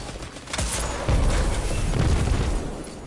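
Heavy, rumbling explosions in the video game Destiny 2 fill the moment, loud and close, with a sharp blast swelling into a sustained roaring boom.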